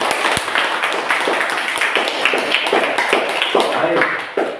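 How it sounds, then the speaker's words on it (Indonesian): A classroom of students applauds their presenters after a school project presentation, with dense, steady clapping that fills the room throughout, a few sharper claps standing out, and voices mixed in. "Tepuk tangan untuk mereka."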